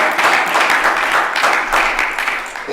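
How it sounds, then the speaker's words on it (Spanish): Church congregation applauding during a Spanish-language sermon, a dense, continuous wash of clapping from many hands filling the space, loud and steady throughout. "¿Le puede dar un fuerte aplauso al Señor?"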